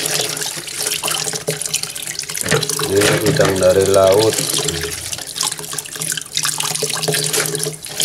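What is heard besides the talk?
washing shrimp under running tap water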